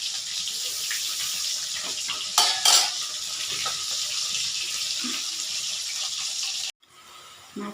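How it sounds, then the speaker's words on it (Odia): Masala is sautéed in a pan for a desi fish curry cooked on a chulha, giving a soft, steady sizzle with faint stirring scrapes and a couple of brief louder clatters. "ଗୋଟେ ମସଲା କଷା ଚାଲିଛି।"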